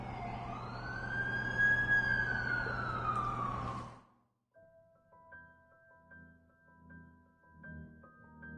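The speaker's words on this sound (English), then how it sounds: "That's the ambulance I called." An ambulance siren in The Amazing Spider-Man 2 wails loudly and close for about four seconds, then cuts off abruptly, leaving soft tonal game music and low ambience.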